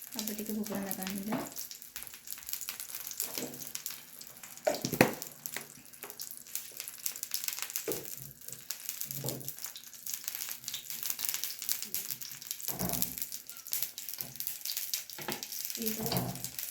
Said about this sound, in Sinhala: අබ සොරපයක් දාලා අබ ටික පුපුරන ගන්නද.